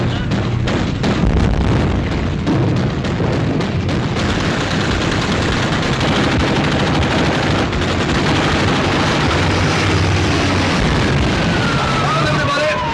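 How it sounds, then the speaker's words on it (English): A warship's anti-aircraft guns blazing at diving aircraft in a 1942 naval war film, a dense, loud barrage of rapid gunfire and blasts that continues without letup, with shouted orders mixed in. "Open fire! Shoot! First wave of diving now."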